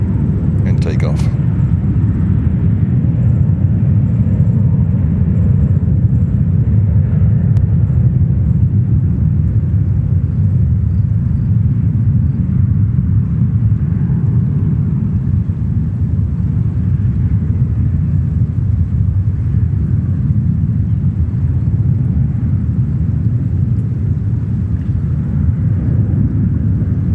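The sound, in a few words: airplane taking off at JFK airport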